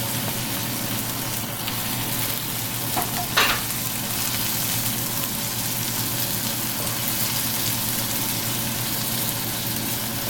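Ginger garlic paste and chopped tomatoes fry in a pan with a continuous steady sizzle, broken briefly by a couple of faint clinks of a utensil, no voices.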